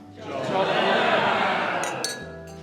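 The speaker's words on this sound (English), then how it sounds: "please join me in raising a glass to Joel and Emma." Glasses clink at an autumn wedding toast at Tyn Dwr Hall, a few bright chinks rising near the end over the steady murmur and chatter of a standing crowd.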